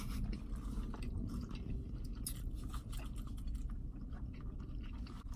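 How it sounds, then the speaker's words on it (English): Close, quiet chewing and soft crunching of food during a mukbang, steady mouth sounds with faint scrapes and no talking. "You just hear us chewing."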